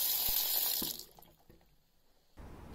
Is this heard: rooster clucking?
no